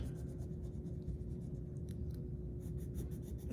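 A colored pencil presses hard across paper in small circular strokes, a continuous soft scratching close up over a low room hum, with no voices.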